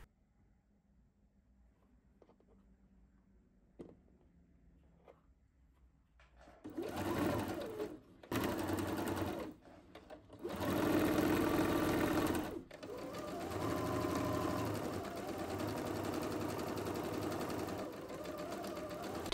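After several seconds of near quiet with faint taps, a sewing machine starts stitching a rolled hem on a bubble frock, running in loud bursts separated by short stops, then settling into a longer steady run.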